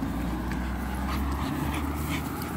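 American bully dogs on a beach whimper and pant softly and steadily, with a continuous wash of wind and surf noise behind them.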